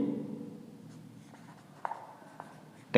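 A pen scratches on paper as trigonometry ratios are written out, producing a soft, close scratching with a few light taps, then ending in a brief louder rustle.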